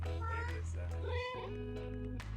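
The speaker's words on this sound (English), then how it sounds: "6 is nice too, because there's a little purr." A video game cat meows in a drawn-out, tonal call, followed by a second softer meow with a low rumbling purr underneath.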